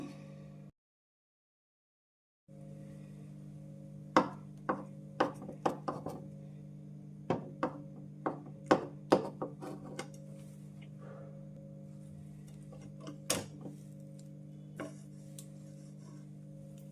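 Knife slicing through a milk-soaked Christmas malai cake in a pan, a series of sharp, close taps and clicks against the pan bottom in irregular bursts, over a steady background hum.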